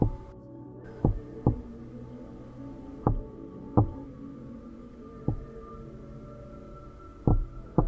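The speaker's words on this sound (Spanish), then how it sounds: "se trataban de ruidos de la puerta del auto" Car door thuds from the video game Petscop sound as sharp, muffled knocks, about eight spread irregularly over a low hum, fairly close and alone.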